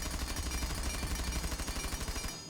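A Rainbow Six Siege automatic rifle fitted with a flash hider fires one long continuous burst, dense evenly spaced shots that stop abruptly at the end.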